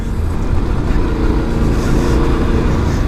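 A Yamaha Ténéré 700 motorcycle accelerates hard through deep mud, its engine a loud, close, steady roar over churning low rumble for a few seconds.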